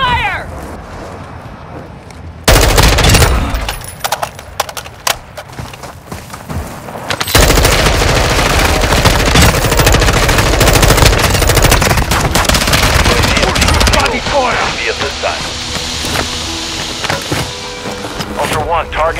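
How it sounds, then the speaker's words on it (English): Gunfire in Warzone 2.0 DMZ mode on Ashika Island: loud bursts of rapid automatic fire and scattered shots over a dense, noisy game mix, with radio-style voice chatter and some cat-like meowing in the background. "Taking effective fire!"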